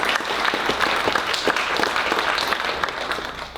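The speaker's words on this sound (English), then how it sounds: "Give him a round of applause." Steady applause rises from a crowd at a community gathering honoring Eagle Scouts, many hands clapping together, moderately loud, and easing off slightly toward the end.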